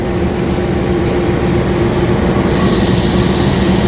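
A Kereta Api Argo Merbabu train hauled by locomotive 20640 of the Sidotopo depot, Surabaya, stands at platform 1 of a station, giving a steady, loud rumble of engine and railcar hum with a faint tonal drone throughout.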